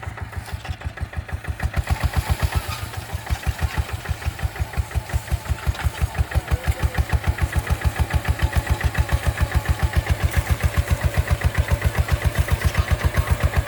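A Kubota KRT140 small 4x4 tractor plows a paddy field in single-axle drive. Its engine chugs loudly in a fast, even rhythm, picks up revs after a couple of seconds, then holds a steady pounding beat with no voices.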